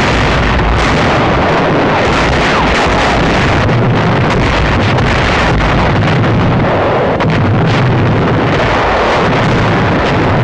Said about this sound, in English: Rendova shore installations come within range of our big naval guns.